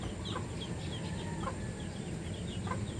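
Chickens in a backyard flock cluck and squawk in short scattered calls over a constant farmyard background hum, with no one speaking.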